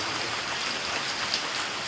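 The first rain of the season falls in a steady, even hiss that stays constant and fairly loud for the whole stretch, with no voices.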